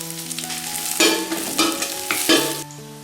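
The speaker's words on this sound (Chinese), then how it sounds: "锅里少放点油，放入葱和姜，把这个虾皮给它放进去炒一下" Dried shrimp stir-fried with scallion and ginger in a little oil, a loud, close sizzle with bursts of spatula scraping and tossing, under a steady background hum, with no talking.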